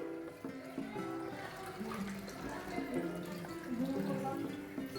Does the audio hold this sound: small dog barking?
no